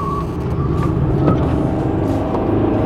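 A small car drives through corners, its engine a loud, steady drone heard from inside the cabin, with no talk.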